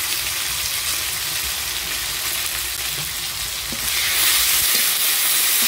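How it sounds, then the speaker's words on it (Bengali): Chopped tomato fries in hot oil with whole black pepper, dried red chillies, cumin and bay leaves for a village-style chicken curry, giving a loud, steady sizzle that swells near the end with no talking. "টমেটোটা ভাজা ভাজা হয়ে গেছে।"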